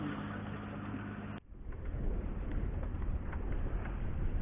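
A sailboat's engine runs while motoring under sail, a steady droning hum that drops out briefly and then returns with an even, rumbling throb.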